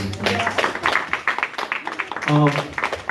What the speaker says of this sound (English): That deserves a round of applause as well